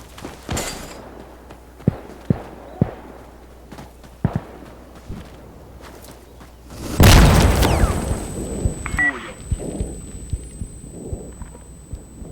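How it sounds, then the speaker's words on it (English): A loud explosive blast bursts out in a game of Insurgency Sandstorm, a heavy boom with a rumbling tail that fades over a few seconds, set among scattered gunshots and thuds. "Using an explosive!"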